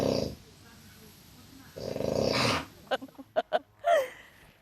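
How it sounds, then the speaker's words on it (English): A woman snoring in a jungle camp, with people talking at first, then a run of short, rough nasal snorts and a longer, wheezy snore close by. "Is that her snoring?"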